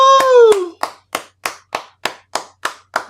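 A round of applause sample triggered on an MPC Live 3 drum machine: a short burst of hand claps, then a steady run of about eight evenly spaced single claps, loud and close.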